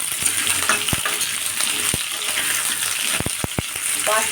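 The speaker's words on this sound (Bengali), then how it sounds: "প্রথমে আলুটা দিলাম, ওলকপিগুলো দিয়ে দেবো। এবার এটাকে ভালো করে ভেজে নিতে হবে।" Diced potatoes and kohlrabi fry in an oiled pan, giving a steady broadband sizzle with sharp clacks and scrapes from a spatula stirring them, all close and loud with no talking.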